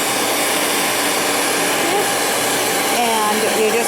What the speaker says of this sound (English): And you're just going to blow dry the whole thing.